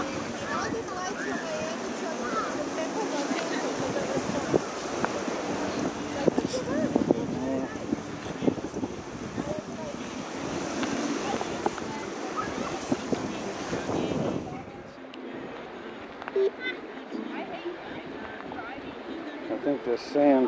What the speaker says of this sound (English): The wind's kicking up a little because we had some clouds.